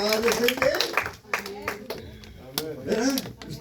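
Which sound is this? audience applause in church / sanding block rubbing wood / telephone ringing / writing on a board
audience applause in church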